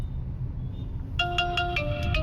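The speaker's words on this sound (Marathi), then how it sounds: "आला आला फोन आला कस्टमरचा" A mobile phone ringtone sounds for an incoming call from a customer inside a CNG car on a local trip, with a bright repeating electronic melody beginning midway and playing over a steady low cabin hum.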